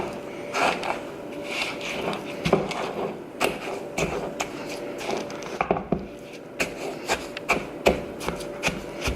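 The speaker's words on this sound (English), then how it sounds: "I'm going to mix with a spatula until they're combined" A spatula scrapes and stirs peanut butter cookie dough, with the egg and vanilla mixed in a bowl, making repeated close rubbing strokes and soft thuds in an irregular rhythm, with no voices.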